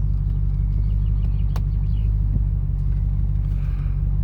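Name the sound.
1994 Range Rover creeping uphill without throttle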